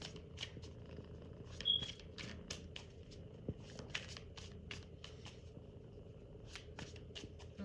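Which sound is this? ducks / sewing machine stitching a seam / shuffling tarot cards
shuffling tarot cards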